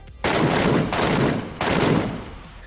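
A DMR rifle fires full-auto in PUBG, sounding as three loud, dense bursts of rapid gunfire back to back, close and heavy, with no talking.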